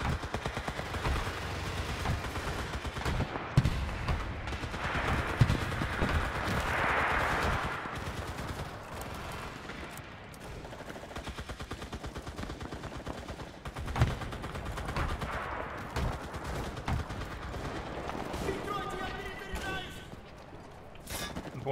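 Gunfire in the World War II shooter game Enlisted, with repeated rifle and machine-gun bursts at mixed distances, some sharp and close and others distant, running under intermittent voices.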